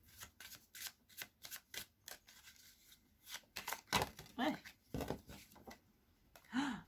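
Oracle cards are shuffled by hand in a run of quick riffling bursts, close and fairly quiet, broken by short pauses, with faint talk in places.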